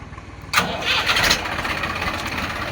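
A Massey 1035 DI tractor diesel engine cranks and fires up abruptly, then settles into a loud, steady, rumbling idle close by.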